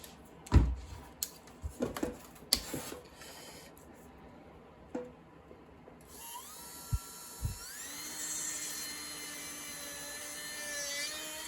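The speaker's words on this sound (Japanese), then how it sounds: "じゃあまあ穴開けていきましょうかね。" A small rotary tool bores a hole in a wooden netsuke carving of a peanut, starting after a few handling knocks and then spinning up to a high steady whine that holds close and loud.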